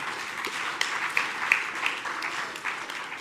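Sustained clapping from a business breakfast audience, a full crowd patter with a few sharper claps standing out, continuing without speech.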